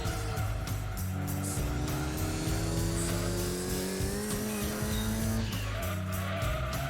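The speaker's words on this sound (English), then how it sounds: "Ooh, lots of unnecessary tire spin, tire squeal." A Mitsubishi Evo VI RS in Gran Turismo 2 spinning its tires, a sustained high squeal over a steady droning engine note, loud and continuous for several seconds with no talking.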